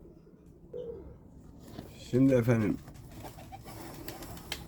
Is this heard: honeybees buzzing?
no